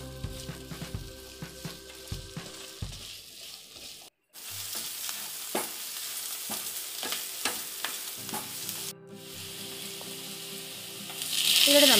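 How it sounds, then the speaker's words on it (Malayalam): Chopped onions sauté in butter for butter chicken, giving a continuous close sizzle broken by repeated stirring scrapes and taps of the spoon against the pan, with no talking. "അത് നമുക്ക് നന്നായിട്ട് ഒരു brown colour golden brown colour ആവുമ്പോഴേക്കും നമുക്കൊന്ന് വഴറ്റി എടുക്കാം"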